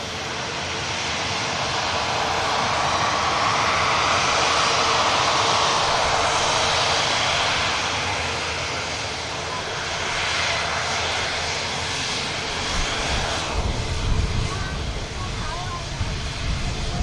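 A Virgin Atlantic airliner with Rolls-Royce engines at an airport gives off a loud, sustained jet roar that swells, eases and builds again over many seconds, with a voice speaking over it.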